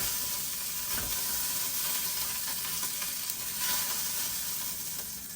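Meat for a pot roast browns in a pot, giving a steady, dense sizzle of hot fat that holds close and even for the whole stretch, with only slight swells and no talking.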